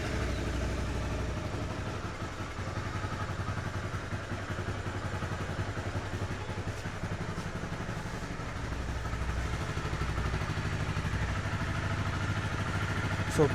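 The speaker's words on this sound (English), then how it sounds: "So leave the engine on the idle for at least 10 minutes." A cold 2013 Honda CBR250R motorcycle engine idling, a steady low mechanical thrum with light clatter, holding an even close-up level throughout.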